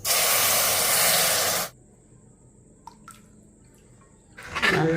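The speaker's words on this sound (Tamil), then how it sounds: "நம்ம வடிகட்டி வச்சுருந்த தக்காளி சூப்பை இதில் ஊற்றிடுவோம்." Strained tomato soup pours into a hot pan with a loud, steady sizzling hiss for under two seconds, then it drops to quiet simmering with a few faint clinks and another burst of sizzle at the end.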